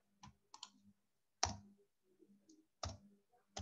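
A space bar on a computer keyboard is pressed several times, sharp isolated clicks close to the microphone at irregular intervals in a quiet room.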